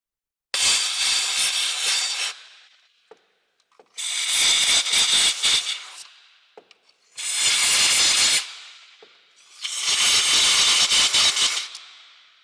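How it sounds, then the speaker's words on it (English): Compressed air blasts out the glow plug area of a VW Caddy Type 2K 1.6 engine in four loud, close hissing bursts of about two seconds each, separated by short quiet gaps. "Then we have to blow out the whole thing."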